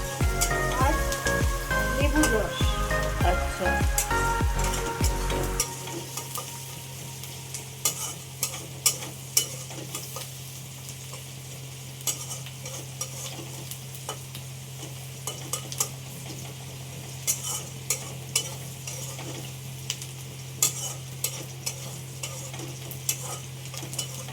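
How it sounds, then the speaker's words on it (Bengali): Onion frying in a pan crackles and hisses while a spoon scrapes and stirs it with repeated clinks, over a steady low hum. Music is audible at the start before it cuts off. "পেঁয়াজটা হালকা হালকা ভাজা হয়ে গেছে"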